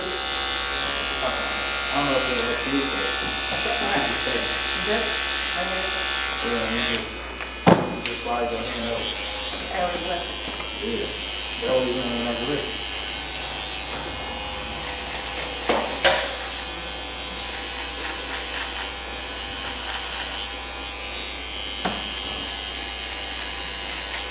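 Steady electric shaver buzz runs throughout, close and fairly loud, used in a barber's mid bald fade haircut, with a person talking over it during the first half and a few small knocks.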